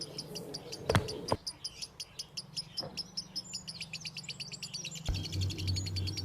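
Cartoon birds, a parrot and a sparrow, chirp in a rapid, steady stream of faint tweets with a few sharp thumps mixed in, over a low continuous hum.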